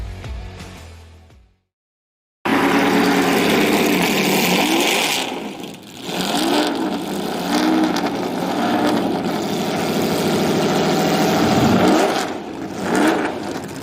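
A vintage Ferrari race car engine revs loudly after a brief silence, rising and falling in throttle blips with a sustained, raspy mechanical roar close by.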